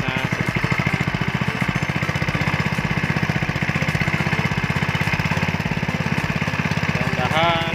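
An Alkon water pump engine runs hard after the throttle is opened, a steady, rapid mid-pitched putter with a fast even pulse, loud and close throughout.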